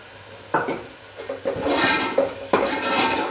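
Kadhi masala roasting in a pan for kadhi pakora, stirred with a utensil that scrapes and clinks against the metal in repeated bursts over a soft low sizzle, close and fairly loud.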